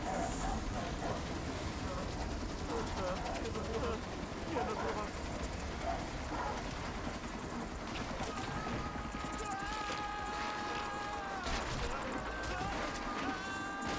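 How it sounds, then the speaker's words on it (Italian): Dogs in pursuit during a Far Cry 3 chase, with barks and yelps scattered through a loud, steady wash of running, splashing and action noise, and a voice talking over part of it. "Attraversa il fiume, i cani che ci inseguono."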